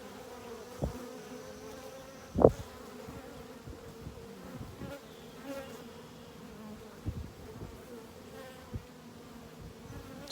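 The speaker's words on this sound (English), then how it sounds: "Look down in there. See all those bees?" Honey bees buzz in an open hive with a soft, continuous drone, broken by a few faint knocks and one louder thump.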